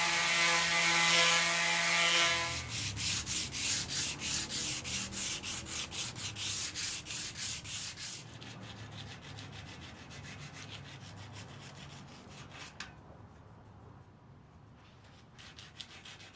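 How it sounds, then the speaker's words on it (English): A wooden jaw for a sheet metal brake is sanded along its edge: rapid back-and-forth rasping strokes in a steady rhythm, close and fairly loud, slowing and thinning toward the end with a few light knocks. "On the edge towards the leaf, sand it out, because this too will leave its fingerprint right on your sheet metal."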